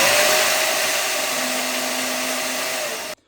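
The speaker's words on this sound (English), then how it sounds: "For that, I'm using my little bandsaw setup here." A Bauer bandsaw on a desktop base cutting driveshaft tubing gives a loud, steady high-pitched whir and grind that holds for about three seconds, then cuts off abruptly into silence.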